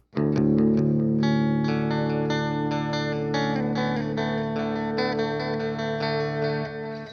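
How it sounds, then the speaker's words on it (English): An electric guitar through a Boss reverb pedal plays a sequence of ringing notes and chords, each washed in lush reverb and trailing echoes, heard alone and up close. "I should probably play it on with the notes to actually hear the reverb"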